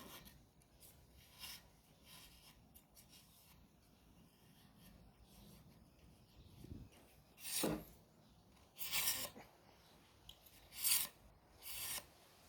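Quiet scraping and rasping strokes whittling a fresh palm leaf stalk, a few louder shaves near the end, close and steady, with no talking.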